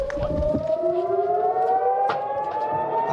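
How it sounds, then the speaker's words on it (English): Civil defense sirens wail steadily in Kiryat Shmona, northern Israel, warning of a rocket barrage fired from Lebanon; overlapping rising tones sound loud and continuous throughout. "Sirens wail as a barrage of rockets streaks towards Israel from Lebanon."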